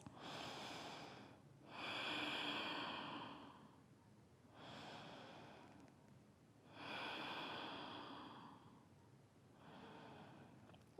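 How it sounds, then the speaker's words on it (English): Slow, deep yoga breaths during a forward-bow pose, each long airy inhale and exhale swelling and fading in a steady rhythm, close and fairly soft with no talking. "Take 3 very deep breaths."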